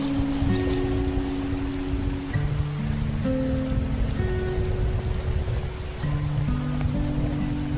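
Steady rain falls in a continuous, even hiss, with a low tonal hum running underneath and no voices present.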